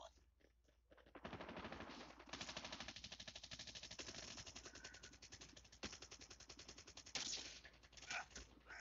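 Rapid automatic gunfire in a video game, a long rattling burst of closely spaced shots with a few louder cracks near the end, close and dominant with no clear talk over it.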